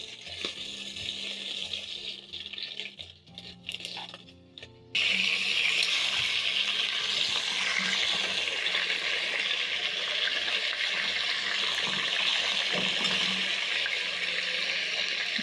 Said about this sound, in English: Be very careful because the oil is splashing all around.